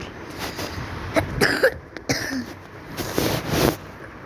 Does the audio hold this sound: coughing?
yes